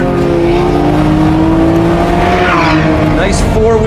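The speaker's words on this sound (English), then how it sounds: "Nice four-wheel drift on entry if you trail the brake in, which is exactly what you want." A Lamborghini Revuelto V12 supercar drifts on all four wheels through a corner on track, its loud, steady engine drone mixed with tire squeal, close and dominant, with someone talking over it.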